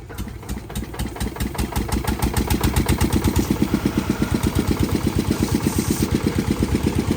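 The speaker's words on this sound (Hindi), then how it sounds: "देखियो जनरेटर के हैंडल मारि रहल है।" A generator started with a crank handle, catching and settling into a loud, close, steady chugging run with a fast even pulse.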